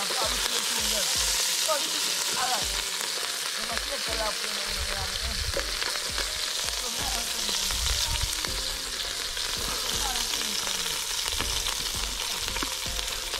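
Garlic sizzles and crackles steadily in a pot set over an open bush fire outdoors, a dense continuous frying hiss with small pops and occasional stirring, loud and close throughout.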